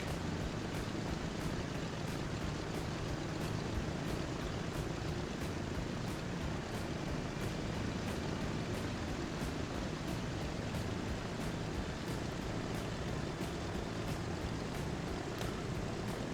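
A Dakota propeller airplane in the Transport Fever game descends toward landing, giving a steady, even drone of engine and airflow noise that holds unchanged from start to finish.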